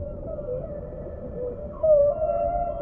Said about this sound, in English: Sometimes whales use their own sonar, making sounds which can travel many miles